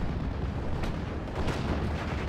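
Sustained rumbling gunfire and distant booms from an M22 light tank firing on a Panzer 35 in the World War II strategy game Steel Division: Normandy 44, a dense continuous battle roar with a few sharper cracks.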